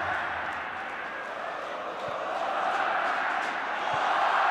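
At Couto Pereira stadium during a Coritiba versus Vasco Brazilian league match in 2011, a huge football crowd chants and roars olé in a dense, sustained wall of voices that swells slightly toward the end.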